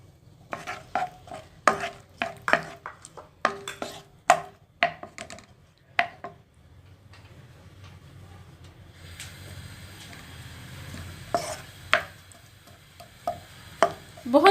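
Onions drop into hot cooking oil in a pot for a black chickpea curry. Crisp spoon taps and scrapes come first, then a broad hissing sizzle rises, punctuated by sharp stirring clacks against the pot.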